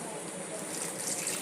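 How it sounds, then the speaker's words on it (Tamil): Water poured from a vessel into ground paste for paneer butter masala, giving a soft, steady trickle that stays faint and close without a break, with no talk. "அரைச்சதுக்கப்புறம் தேவையான அளவு தண்ணி ஊற்றிக்கலாம்."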